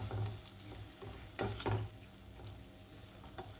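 Baby corn chili with red chilli sauce being stirred in a pan, a couple of louder scraping strokes over a soft, steady frying sizzle close by, no talk.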